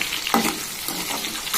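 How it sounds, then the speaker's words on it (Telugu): Chopped onions fry in a pan for Rayalaseema-style sambar, giving a steady close sizzle with a few faint clinks as they are stirred. "కట్ చేసి ఉంచుకున్న ఉల్లిపాయలు బాగా దోరగా వేగాలి."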